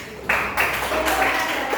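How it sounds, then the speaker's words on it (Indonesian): A group of students in a classroom clap for a classmate who has just explained how to cook instant noodles. The clapping starts after a brief pause and fills the rest of the moment, dense and moderately loud, with voices mixed in. "Ya, tepuk tangan untuk Zulfa"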